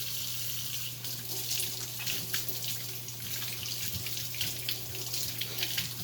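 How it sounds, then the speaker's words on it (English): Tap water running steadily into a sink while hands are quickly washed in a lab, with a constant close splashing rush, uneven spatters and a low hum underneath. "So now I'm going to quickly wash my hands as we do on a normal basis, just a quick wash here."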